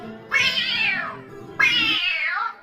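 A cat gives two loud, drawn-out meows in quick succession, close and clear, each about a second long.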